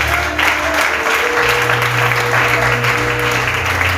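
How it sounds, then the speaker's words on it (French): A church conference audience breaks into steady, loud applause that fills the whole stretch, dense clapping with a sustained organ-like tone underneath. "Est-ce qu'on peut acclamer pour cette personne?"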